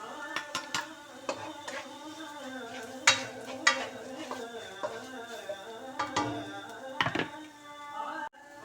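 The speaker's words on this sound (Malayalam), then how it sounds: "ഇനി നമ്മൾ പൊടിച്ചു വെച്ചിരിക്കുന്ന ആ മസാല ചേർക്കാം" Ground masala being stirred into mutton curry in a pot, with a spoon scraping and clinking against the metal in irregular strokes over a soft sizzle, close up and fairly quiet.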